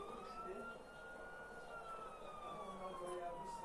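A police car siren wails steadily at a distance, its rising and falling tone faint beneath street background noise.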